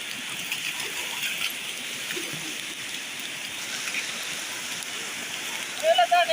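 River water flows in a steady broadband rush, continuous and moderately loud throughout, with a voice briefly heard near the end.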